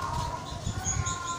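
A pigeon being given water, with soft low cooing and a few faint chirps close by, fairly quiet against a steady background hum.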